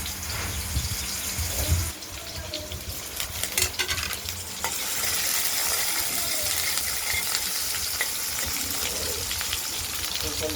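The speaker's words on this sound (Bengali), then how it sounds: "জিরেটাও হয়ে গেছে। এবার আলুগুলো দিয়ে দিচ্ছি।" Potato pieces dropped into hot oil with cumin seeds, sizzling and frying steadily in a pan with scraping stirring sounds near the start, the hiss settling into a continuous close crackle.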